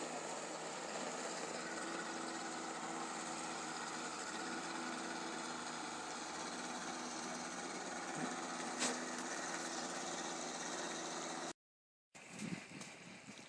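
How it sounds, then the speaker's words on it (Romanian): An outboard motor runs on the back of a boat at Lakes Entrance, Victoria, Australia. It makes a steady, continuous drone that cuts out briefly near the end. "Uite ce motor are în spate de barcă."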